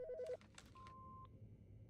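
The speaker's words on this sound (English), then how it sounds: "Phone's ringing." A phone rings in the horror video game Autopsy Simulator: a quick pulsing electronic trill at the start, then a thin steady beep, all faint and distant with no voices.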